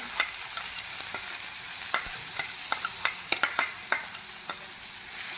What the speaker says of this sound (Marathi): रंग बदलेपर्यंत कांदा आपण तेलावर परतून घेऊया